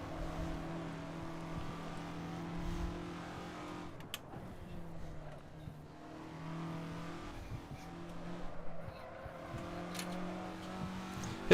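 A race car engine in a racing sim game, revving and accelerating hard under throttle, with rising and falling engine tones and gear changes, moderately quiet and steady throughout.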